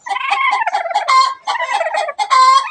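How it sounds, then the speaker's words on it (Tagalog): A black chicken gives loud, rapid, warbling calls in a continuous burst, close by, with brief pauses between runs and no voices. "itong isang manok dito"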